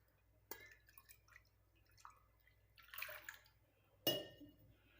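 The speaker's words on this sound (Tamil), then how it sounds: "கொஞ்சமாக தண்ணி ஊற்றி அலசி ஃபுல்லாக ஊற்றிக்கோங்க" Water splashes and trickles into a herbal mixture containing karpooravalli (Indian borage) leaves in a few short bursts, with quiet pauses between pours, close by.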